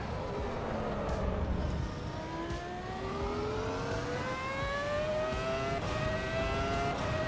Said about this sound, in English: The sound of this car.